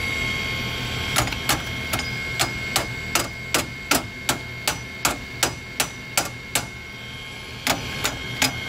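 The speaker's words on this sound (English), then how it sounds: "We're gonna hit it with a hammer." A hammer strikes an AquaHot/HydroHot boiler in a run of sharp metallic knocks, about twenty close, loud hits at a fairly steady pace, with a brief pause before the last few, over a constant mechanical hum.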